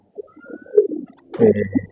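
A domestic pigeon gives a brief, soft cooing call, a few low throaty pulses close by in a quiet setting, lasting about two seconds.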